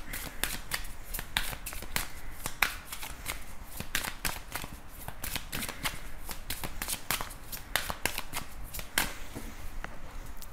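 A tarot deck is shuffled by hand, with a continuous run of quick, crisp riffling and slapping card sounds, close and steady throughout with no talking.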